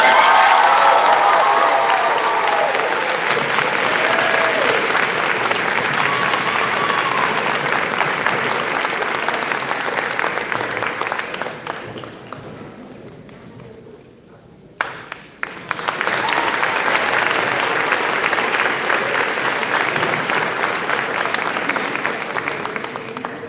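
Audience at an 8th grade promotion ceremony applauding the student with the second highest grade average, sustained loud clapping and cheering filling the hall, briefly fading out midway before resuming strongly.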